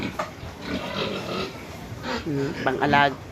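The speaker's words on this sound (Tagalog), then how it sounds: "Papainom po natin sa ating mga alagang baboy." Pet pigs grunt and oink close by while being given water, a short series of snorting, nasal calls with some background noise and a human voice mixed in.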